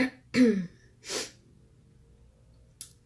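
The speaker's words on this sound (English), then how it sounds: "you might hear me clearing my throat a lot and coughing" A few close, harsh bursts of throat clearing and coughing separated by quiet pauses, followed by a short sniff.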